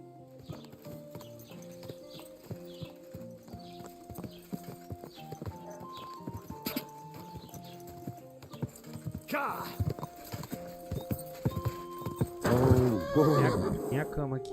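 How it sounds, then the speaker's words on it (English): Horse in Kingdom Come: Deliverance II whinnies loudly near the end, after steady clip-clopping hooves and game music earlier, with a voice speaking briefly. "Agora tem cavalo"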